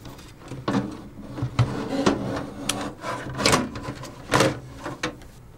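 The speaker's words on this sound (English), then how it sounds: "Gently position the radiator at the top of the case." A liquid-cooling radiator being set into the top of a PC case, producing soft knocks, scrapes and clunks of metal against the case at close range, quiet and irregular.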